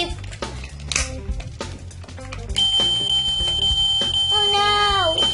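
Electronic beeping from a Ferrari toy race car obstacle course with smart cubes, rising to a steady tone with repeated bright chirps and sweeping electronic notes, alongside clattering plastic and a voice imitating the beeps.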